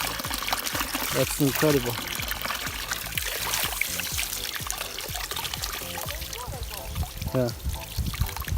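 Water pours and trickles steadily from an unplugged spring spout in the Homolje Mountains, close by and continuous, while people talk over it.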